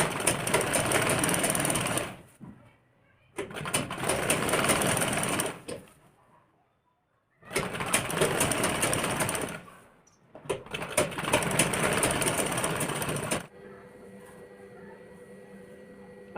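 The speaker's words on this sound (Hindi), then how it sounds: "पहले पूरे पे सिलाई मार लेंगे ऐसे सीधी एक पैर की" Sewing machine stitching a straight seam on blouse fabric, running in four loud bursts of rapid, steady mechanical chatter with short pauses between them, then a faint tonal hum at the end.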